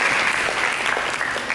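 A church congregation claps together for Jesus in a brief burst of dense, steady applause that fills the room at an even level throughout.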